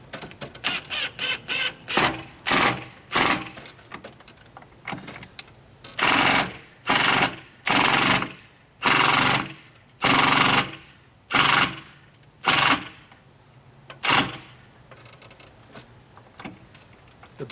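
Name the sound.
impact drill driving screw into stucco wall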